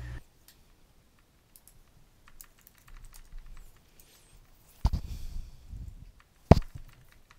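Computer keyboard typing in a chat comes as sparse, faint clicks and short bursts of keystrokes, with a couple of louder taps, in an otherwise quiet room.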